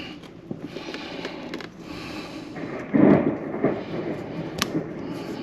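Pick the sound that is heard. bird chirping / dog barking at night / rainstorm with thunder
rainstorm with thunder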